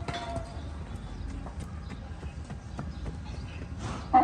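A donkey with overgrown front hooves walks along, its hooves clip-clopping in an uneven rhythm of soft knocks on the ground, close and fairly quiet over low background noise.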